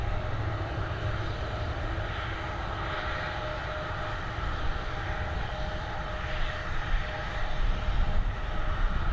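A departing airliner at Dublin Airport roars as a loud, broad engine rumble that swells gradually, heard from a distance without talk.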